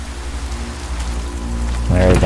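Rain falls in the fantasy adventure game The Legend of Willow Valley, a steady hiss of drops over a low hum, growing louder toward the end as a voice briefly speaks over it.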